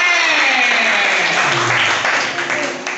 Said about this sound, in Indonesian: tepuk tangan dong buat Meme